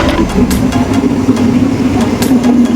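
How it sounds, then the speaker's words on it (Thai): A train arriving at a station rumbles steadily with a constant low engine hum and faint rhythmic clanks, loud and continuous throughout. "ตอนนี้รถไฟมาแล้วนะครับ"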